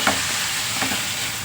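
Onion tempering fries in a pan with a steady, loud hiss and crackle, and a few brief scrapes of stirring near the start and middle.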